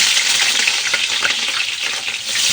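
Eggplant fries in hot oil with a loud, continuous crackling sizzle and light stirring scrapes, heard up close with no talking.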